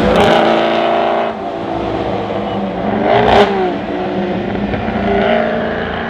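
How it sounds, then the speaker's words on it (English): A Ferrari 250 Europa Vignale with a V12 engine revs up close, its exhaust note a loud, rich engine roar that swells, dips and rises again in a strong surge with no talking over it. "As the accelerator pedal is pressed, the intensity of the V12 engine's voice intensifies"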